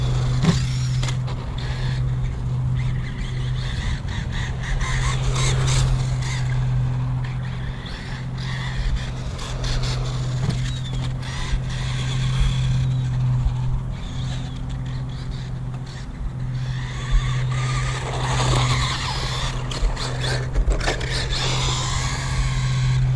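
A RedCat Racing Piranha TR10 RC car with a 550 electric motor drives nearby, a steady mid-level motor whine with a constant low hum and occasional rattles, with no voices.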